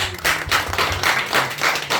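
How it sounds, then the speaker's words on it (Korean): A church congregation claps at a New Year's Eve service, rhythmic bursts of hands in a steady beat, close and fairly loud, with low organ or keyboard tones underneath. "우리 하나님께 영광의 박수."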